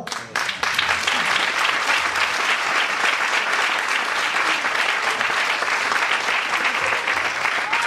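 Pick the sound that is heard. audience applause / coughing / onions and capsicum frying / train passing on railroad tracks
audience applause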